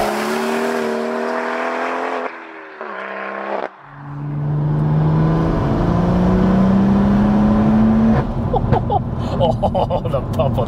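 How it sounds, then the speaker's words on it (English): A 700 bhp manual BMW M140i accelerates hard, its engine note climbing through gears with a brief pop on an upshift, then revving high and loud, with people talking over it. "Oh, the pop on the upshift."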